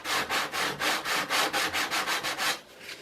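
Sandpaper rubs back and forth along the wooden gunwale trim of a Stormy 45 Draketail boat model, with the grain, in about a dozen close, even rhythmic strokes that stop near the end.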